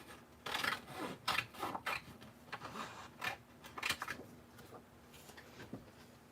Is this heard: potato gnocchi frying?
no